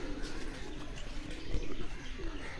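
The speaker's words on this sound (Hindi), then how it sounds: "ये हरे कबूतर हैं इनके" Green pigeons coo softly and repeatedly at a rooftop pigeon loft on a farmhouse, with other birds chirping faintly in a steady low background rumble.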